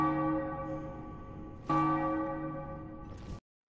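Eleonora's feast bell from Dark Souls tolls twice, each deep resonant strike ringing out with a long metallic hum before the second stroke fades and cuts off.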